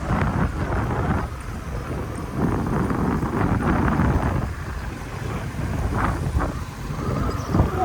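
Cold wind blows steadily outdoors, a continuous, rumbling gust roaring into the microphone with no talking.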